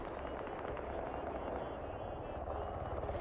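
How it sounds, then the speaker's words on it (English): A helicopter lands in the military game Arma 3, its steady rotor and engine roar filling the scene at a constant level, with faint battle noise mixed in. "helicopter 3 is landing"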